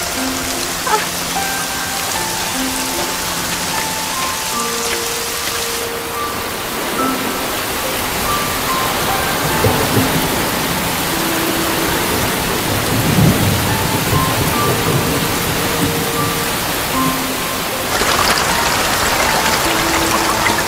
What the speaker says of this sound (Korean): 소나기예요. 금방 그칠 거예요.